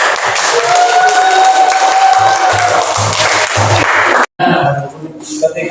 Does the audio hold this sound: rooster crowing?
no